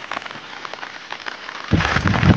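Steady heavy monsoon rain hisses and patters on surfaces nearby, swelling noticeably heavier and louder toward the end.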